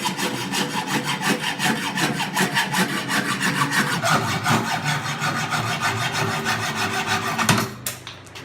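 A hacksaw rasps back and forth through metal coated with cutting lubricant, steady rhythmic close strokes about two per second, ending with a clatter as the cut finishes.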